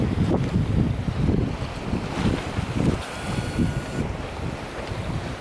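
Strong gale-force wind buffets the microphone in rumbling gusts, with water rushing and sloshing around a sailboat crossing from Nova Scotia to Newfoundland; no voices.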